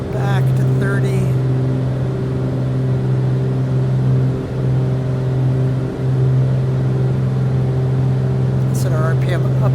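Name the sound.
piston aircraft engine in cruise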